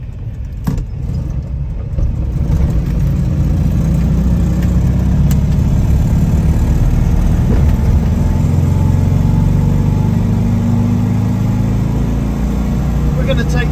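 A Citroën Ami 6 car engine drones steadily while driving, with a low, even hum and a few light rattles and clicks early on, close and fairly loud.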